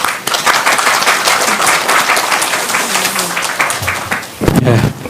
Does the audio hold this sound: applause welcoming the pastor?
yes